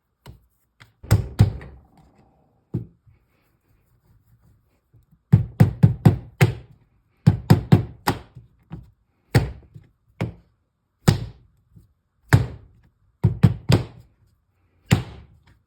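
Porcelain clay is slammed down and rolled on a work surface, producing heavy, dull thuds in irregular clusters of two or three, separated by quiet pauses, close and fairly loud, with no voices.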